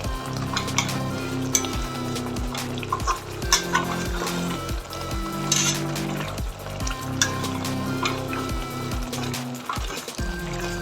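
Mango and jaggery mixture spiced with cinnamon and cloves simmers in a pot as its water cooks off, giving a steady bubbling sizzle with occasional soft clinks of stirring.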